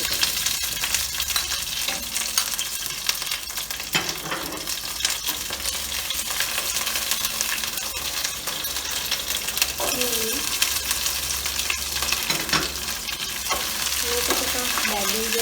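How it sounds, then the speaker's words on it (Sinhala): Ginger, garlic, green chillies, rampe and curry leaves frying in butter oil, crackling in a loud steady sizzle with repeated spoon scrapes and stirring clinks close by. "butter oil ටික දිනුනාට පස්සේ ඉඟුරු, සුදු ලුණු, අමු මිරිස්, රම්පේ, කරපිංච තේරෙන එකතු කරනවා."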